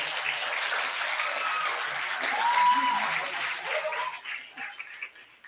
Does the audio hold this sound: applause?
yes